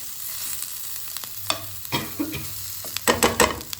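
Paneer, capsicum and onion chunks stirred in a hot pan, with steady sizzling and frying and bursts of spatula scraping that grow busier toward the end.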